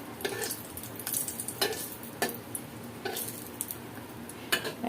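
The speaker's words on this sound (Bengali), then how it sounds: "তেলটা গরম হয়ে গেছে। এখন দিয়ে দিচ্ছি একটা শুকনো মরিচ" Dried chili and green chilies crackle in hot oil in a pan for leafy greens, a steady frying hiss broken by sharp pops and a few clinks of a utensil against the pan, with no talking.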